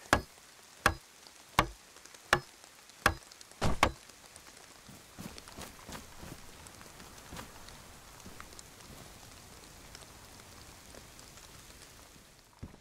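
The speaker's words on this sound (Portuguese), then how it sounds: "A chuva ainda não passou, cara." Rain falling in the DayZ survival game, a steady faint patter of drops with a series of sharp ticking impacts near the start, then a soft continuous wash with no talking.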